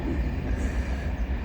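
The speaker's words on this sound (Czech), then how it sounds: "Vláček." A train passing close by with a loud, continuous rumbling roar of wheels on rails, steady for the whole stretch, heard from near the water.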